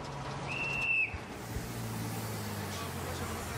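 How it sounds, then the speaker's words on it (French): A police officer's whistle gives one short, shrill blast of about half a second over a busy road, with low engine rumble from cars and trucks continuing underneath. "Eric a entendu le coup de sifflet du policier assez tôt pour lâcher le camion à temps."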